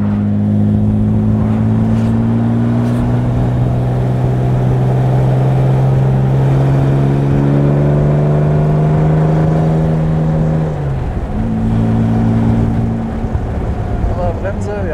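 A Jaguar SS 100 Suffolk replica from 1977, a prewar-style roadster with over 200 horsepower, drones steadily while driving, its engine pitch rising slowly, dipping at a gear change, then settling again, with wind noise throughout.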